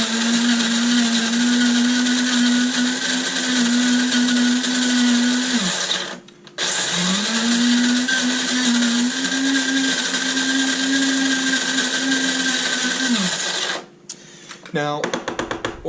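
A coffee grinder, modified for a finer grind, grinds fresh Brazil coffee beans in loud, steady whirring bursts: a long run, a brief stop, a second long run, then a short final stutter as it winds down.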